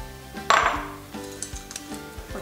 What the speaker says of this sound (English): I'm going to position these bigger terracotta pots